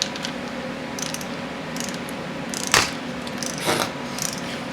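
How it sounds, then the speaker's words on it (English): A torque wrench clicks and ratchets while tightening bolts on a Chrysler 383 engine in a garage, a couple of sharp clicks standing out over a steady mechanical background hum. "And we'll torque them to 45 foot-pounds per the Chrysler manual."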